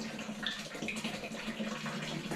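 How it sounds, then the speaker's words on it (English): A gallon of water poured steadily into a container for wineberry wine, a continuous close splashing rush that lasts throughout without a break. "we're gonna add a gallon of water."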